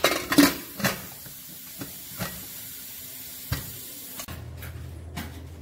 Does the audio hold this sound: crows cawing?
no